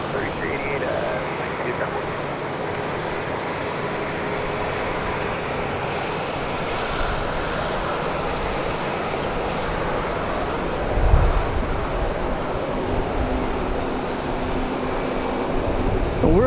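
A Boeing 737-700 airliner roars at Dallas Love Field, heard from a parking garage. The jet engine rumble is broad and steady with some wind buffeting, and it swells slightly near the end.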